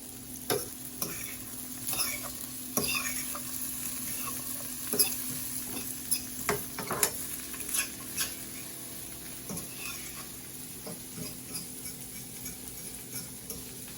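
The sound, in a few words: sautéing scotch bonnet pepper in a pan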